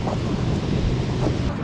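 Wind and ocean waves at a surf beach on a sunny day with many surfers in the water, a dense, loud, continuous roar of surf and microphone wind noise without any voices.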